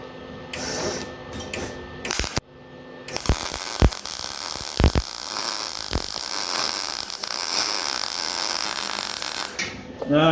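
Beads being welded onto an old trailer produce a steady crackling buzz broken by short gaps and sharp pops where the arc stops and restarts, close and fairly loud throughout.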